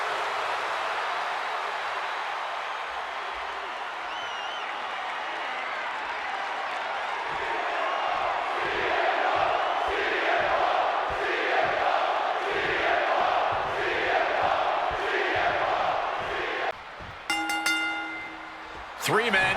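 Arena crowd in the WWE 2K26 wrestling video game cheering a match featuring CM Punk, Randy Orton and Batista, a steady roar that swells into rhythmic chanting, overlaid by a commentator's voice, ending with a short music sting.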